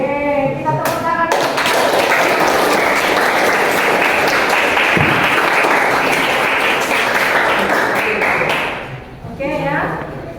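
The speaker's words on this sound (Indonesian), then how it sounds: "Oke, kita tepuk tangan." A classroom of students clapping together on cue, a dense, loud burst lasting about eight seconds before it fades, with a teacher's voice briefly before and after.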